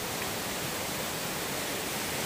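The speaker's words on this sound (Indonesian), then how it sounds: "Ini suasana di pagi hari di air terjun Trinting." The Trinting waterfall in the morning gives a steady, broadband rush of falling water, even and unbroken across the short stretch, with no voices.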